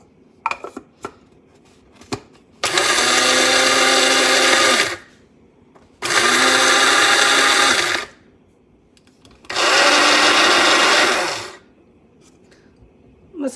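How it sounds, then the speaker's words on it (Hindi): An electric grinder whirs through spice masala for nihari, including long pepper, in three loud, steady bursts of roughly two seconds each. Short pauses and faint clinks fall between the runs. "मसाला ग्राइंड हो चुका है"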